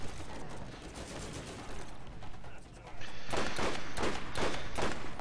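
Gunfire in the video game Borderlands, on Dr. Ned's zombie island, a rapid volley of loud shots bursting out in quick succession toward the end, after a stretch of game noise with people talking.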